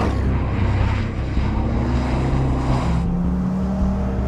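Low-flying propeller airplane droning loudly and steadily throughout, engine noise dense and close, chasing cars in an event across America.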